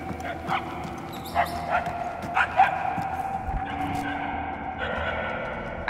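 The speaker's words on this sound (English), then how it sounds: "We are no closer to the source of the barking." In the Guardians of the Galaxy video game, a dog barks in the distance, with several faint, scattered barks and yelps heard over ambient game sound and characters talking.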